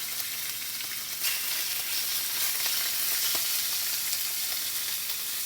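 Chicken pieces sizzling and frying in hot olive oil in a skillet, a steady loud hiss and crackle throughout with no talking.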